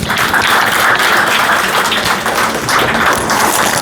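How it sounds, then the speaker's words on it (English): Audience applause fills a panel discussion on AI security, a steady dense wash of clapping lasting the whole stretch, loud and close with no talk over it. "Please give them a big round of applause."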